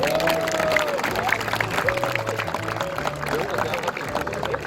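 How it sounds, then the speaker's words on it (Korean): A crowd claps at the opening ceremony of a regional foot volleyball tournament, a busy spread of applause with someone speaking over a loudspeaker beneath it. "박수 좀 더 크게 건강에도 좋답니다."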